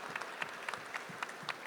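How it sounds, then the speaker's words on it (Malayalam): Faint audience applause at a film event honoring a movie's makers, sparse distinct claps heard distantly and quietly. "ജയൻ നമ്പ്യാരെ ഈ അവസരത്തിൽ നിങ്ങളെല്ലാവരും ഒരുപാട് കൈയടിച്ച് പ്രോത്സാഹിപ്പിക്കണം"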